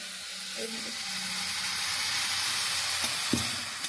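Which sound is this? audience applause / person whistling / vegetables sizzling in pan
vegetables sizzling in pan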